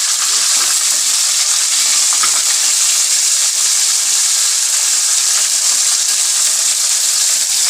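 Green chillies, garlic and ginger sizzle steadily in hot oil, a continuous bright crackling hiss that runs unbroken throughout with no talk.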